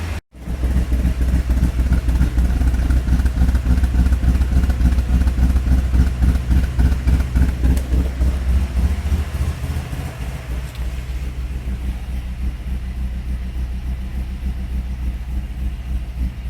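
A Lexus IS300 engine runs steadily and loud, close up, with a pulsing mid-low drone that eases slightly toward the end after its oil control valve replacement; no one speaks.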